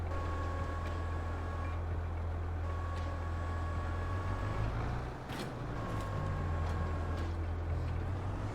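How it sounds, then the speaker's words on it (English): A tractor in the video game Farming Simulator 22 approaches on a winter farm, its engine a steady low drone with a constant hum that holds throughout, dipping briefly midway, with no talking. "There comes the tractor."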